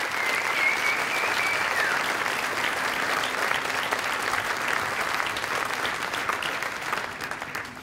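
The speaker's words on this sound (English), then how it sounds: "Athletic Director Ed Lahotak, please give the Bellevue University student athletes a round of applause" Sustained applause from a sizable crowd at a university athletics hall of fame dinner, steady and dense throughout, gradually tapering slightly toward the end.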